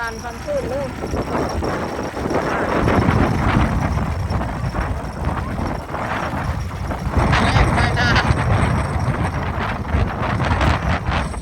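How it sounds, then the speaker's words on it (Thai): Strong wind buffets the microphone with rumbling gusts while rain hisses steadily; people talk over the noise throughout. "ทั้งลมทั้งฝน"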